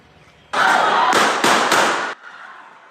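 Several loud sharp gunshots in quick succession, roughly four cracks crowded together over under two seconds, close by, during a fight at a restaurant, with background commotion before and after.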